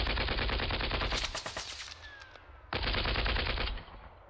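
Machine guns rattle in the wargame Panzer Battles North Africa 1941, two loud sustained bursts of rapid fire separated by a short lull with a fading whine and echo.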